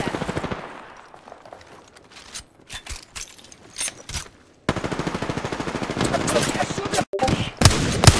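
Rapid automatic gunfire rattles in fast, repeated bursts during a fight in the video game Apex Legends, loud and close with short pauses, alongside mechanical clicks and a voice speaking.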